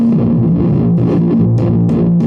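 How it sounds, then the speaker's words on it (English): Electro Faustus Astral Whip pedal, a vacuum hose with a microphone inside run through a guitar amp, giving a loud distorted, buzzing drone with fluttering bursts, continuous and alone. "It's basically a vacuum hose attached to a pedal chassis with a microphone inside that plugs into a guitar amp."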